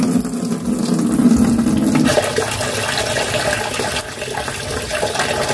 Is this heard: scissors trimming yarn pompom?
no